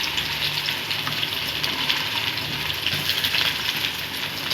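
Chopped onion sizzles in hot oil with black cumin (kalonji) in a pan, a steady hissing frying sound that stays even and moderately loud throughout.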